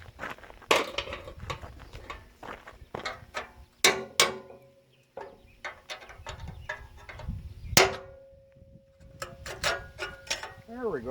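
A steel chisel is fished out of a manure spreader axle with a magnet, producing scattered metallic clanks, scrapes and clicks close by, broken up by pauses.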